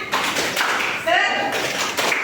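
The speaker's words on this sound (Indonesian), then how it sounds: "mari kita tepuk semangat terlebih dahulu. Tepuk semangat" Students in a fractions math lesson perform a rhythmic spirit clap, bursts of group clapping in short patterned groups, with voices chanting along between the claps.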